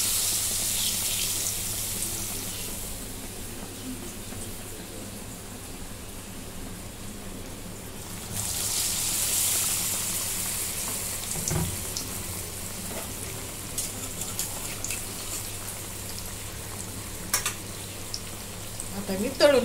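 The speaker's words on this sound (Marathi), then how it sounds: "आता असं मी तेलात सोडून घेते." Bread pakora frying in hot oil, a steady close sizzle and crackle that swells loudly for a while, then settles into a continuous bubbling hiss with occasional pops.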